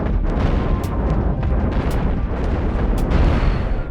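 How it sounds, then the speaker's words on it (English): Heavy booming shots from a deck gun and a large cannon aboard a Cosmoteer starship, sounding as a loud steady barrage of rumbling blasts with a few sharp cracks standing out over it. "If the deck gun or the large cannon would fire accurately."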